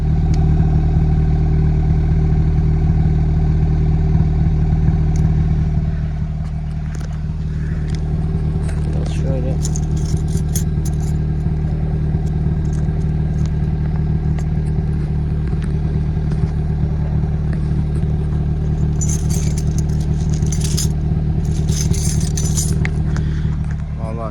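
A Hyundai i20 N engine runs steadily up close with a deep, even drone, broken now and then by soft, irregular pops; a voice talks at times.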